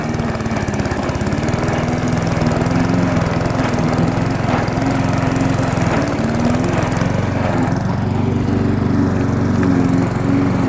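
A homemade Frankenmower lawn mower engine with a test muffler roars steadily and loudly, its pitch dipping and surging as it nearly chokes out, then recovering, with no voices over the constant drone.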